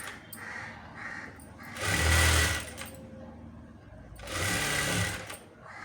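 A sewing machine stitches a blouse in two loud whirring bursts of rapid needle clatter, each a couple of seconds long, with quieter pauses and faint handling noises between them.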